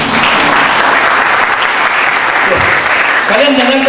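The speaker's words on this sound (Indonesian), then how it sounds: "Tepuk tangan." Dense, loud applause from a crowd at a Perkantas anniversary gathering, sustained throughout with a voice breaking in near the end.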